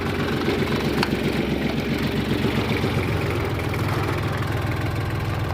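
Mitsubishi MT 200 tractor fitted with a tiller, its engine running steadily at a low throb with continuous mechanical vibration while the machine makes a quick turn, close and fairly loud throughout.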